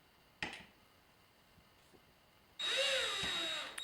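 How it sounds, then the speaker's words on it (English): Power drill driving a screw into a wall rail for an Unger hang-up organizer: a sharp click early on, a quiet pause, then a close, loud whirring burst of the motor running for over a second, alone without talk. "I'm just going to start the screw by hand and then use the drill to drive it"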